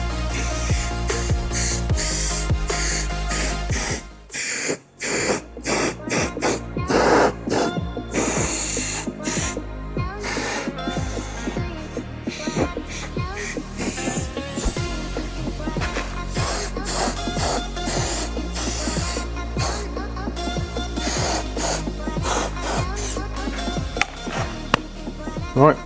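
Aerosol rust converter sprayed from a can onto the rusty body of a Mazda Bongo van, a steady close hiss in repeated bursts with brief pauses between sprays.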